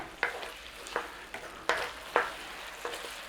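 Chicken and cabbage stir-fry sizzling in a pan under a thickening sauce, with five or six sharp scrapes and clatters as it is stirred, each stroke followed by a brief hiss.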